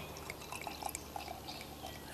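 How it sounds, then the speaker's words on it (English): Stone Brewing Southern Charred beer poured into a glass, a soft, quiet trickle with faint drips and fizz, brief and alone with no talking. "We're going to get the pour."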